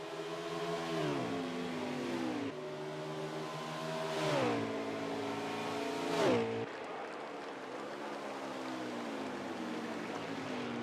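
Stock race cars scream past at the Watkins Glen road course, engines rising and falling in repeated pitch sweeps as they pass, loud and continuous with a lower engine drone between passes.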